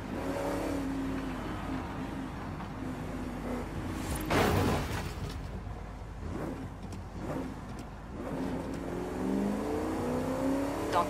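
Daytona coupe engine in Forza Horizon 5 hums steadily while driving, rising into a brief louder rev and whoosh midway, then settling back into a continuous low drone with faint tonal sweeps, no voices.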